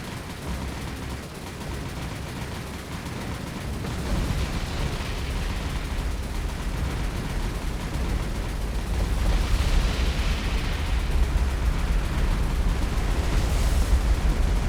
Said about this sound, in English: so a very nice amount of bomb hits there